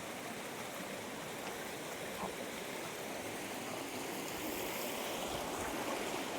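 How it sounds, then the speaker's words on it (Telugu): Water gushes steadily from inside a rocky hillside into a forest stream, a continuous broadband rush that stays close and even throughout with no voices. "కొండ సరికల్ లోపల నుంచి వాటర్ అయితే వస్తున్నాయి ఫ్రెండ్స్"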